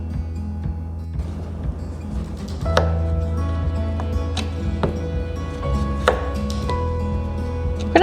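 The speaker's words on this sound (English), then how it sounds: "Our first step, we're going to chop all of our vegetables." Knife chopping vegetables such as zucchini on a cutting board, a series of sharp, close taps at an irregular pace over a low background hum.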